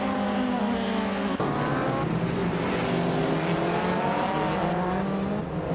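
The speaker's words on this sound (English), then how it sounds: "the race is underway at Donington Park Vintage" Race cars, led by a classic 2000 Audi A4 B5, roar around Donington Park in a vintage touring car race, with loud, steady engine drone, rising and shifting revs, and a sharp gear change as cars pass close.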